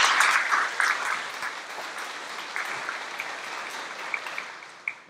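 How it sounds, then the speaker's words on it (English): A gathering applauds at a middle school grand opening, clapping that starts fairly strong and gradually thins out, with a few scattered claps lingering near the end. "I'd like to please give Officer Reagan a round of applause"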